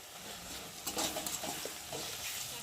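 Spices with salt and turmeric sauté in a pan, giving a soft, continuous sizzle broken by scraping stirs. The cooking sounds are fairly faint and close, with no talking.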